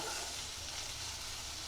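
Okra stir-fry being stirred in a hot pan for an Uttara Karnataka-style palya, a steady soft sizzle and hiss close up, with no voices.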